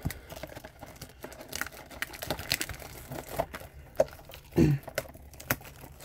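Crinkling wrapper and cardboard handling from a 2019-20 Allure trading card box being opened, close and fairly quiet, with scattered crackles, tears and a louder rustling burst near the end.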